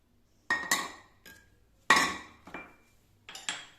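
Fennel seeds, nigella seeds and salt are tipped into a bowl of semolina for a Ramadan recipe, giving a few separate clinks and rattles of spoon or small containers against the bowl, close and clear, with no talking.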